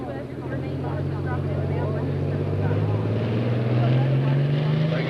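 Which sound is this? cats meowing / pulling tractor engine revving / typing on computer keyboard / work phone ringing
pulling tractor engine revving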